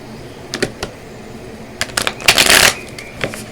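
Playing cards being shuffled nearby, a few quick riffles and snaps building into a fuller flutter, then settling.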